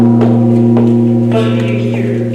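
A Korean jing, a large gong, hums with a low steady sustained tone through a live performance, accompanied by a few faint lighter strikes and a soft high wash near the end.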